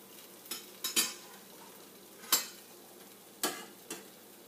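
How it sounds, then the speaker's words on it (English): A spatula nudges a cheese tortilla around a frying pan, giving a handful of sharp, separate scrapes and taps over a faint, quiet sizzle. "you can just move the tortilla around with the spatula so it will all stick"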